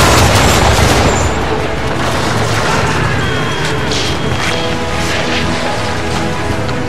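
Ship cannon fire in the Assassin's Creed 3 video game during a naval battle, a loud continuous barrage of booming blasts and rumbling crashes with no pause across the whole stretch.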